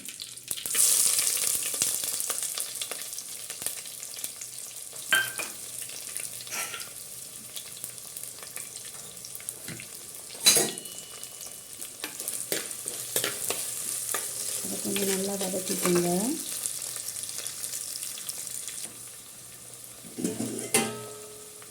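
Onions and curry leaves fry in oil for a fish kulambu, a long steady crackling sizzle punctuated by spoon scrapes and taps, close, with a couple of brief metallic rattles and no speech.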